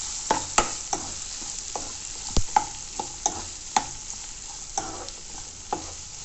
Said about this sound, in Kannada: ಈರುಳ್ಳಿನ ಚೆನ್ನಾಗಿ ಎಣ್ಣೆಯಲ್ಲಿ ಬಾಡಿಸ್ಬೇಕು